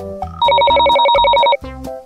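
A telephone ringtone sounds during children's pretend play: a loud, fast electronic warbling trill for about a second, surrounded by a softer repeating melody.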